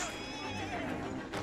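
A horse in the video game Assassin's Creed Syndicate gives one drawn-out whinny, quiet and somewhat distant, with a soft hoof clatter around it.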